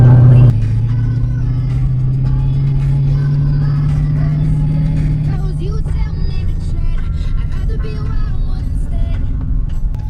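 A car engine starts with a sharp burst and then revs and idles loudly and steadily nearby, its exhaust aimed out of a garage toward the street, with no speech over it.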